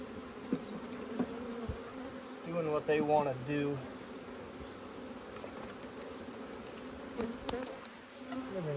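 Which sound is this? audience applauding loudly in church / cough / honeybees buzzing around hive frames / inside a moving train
honeybees buzzing around hive frames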